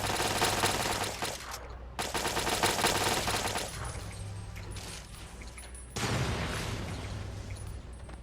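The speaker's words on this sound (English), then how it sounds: "Laser turrets are pretty beastly." Laser turrets in the video game Fallout 3 firing in rapid, sustained bursts, loud and close, with short gaps between volleys and heavy rumbling game action underneath.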